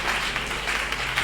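A church wedding congregation applauds to acclaim Jesus Christ, a steady, dense wash of clapping that holds at an even level from start to finish with no break.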